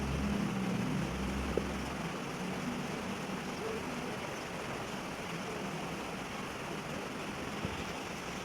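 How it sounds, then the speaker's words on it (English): Steady rain falling in Itanagar, a dense, even wash of hiss that continues unbroken throughout, with a faint low rumble at the start. "It's raining again."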